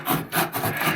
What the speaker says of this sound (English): And now the last bit needs to be sawn.